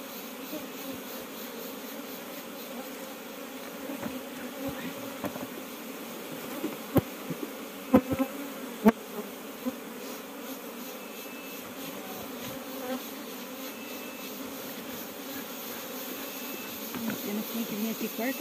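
Angry honeybees swarm and buzz during a honey harvest, a dense continuous drone close around the listener with scattered sharp clicks, while people speak Portuguese now and then beneath the hum.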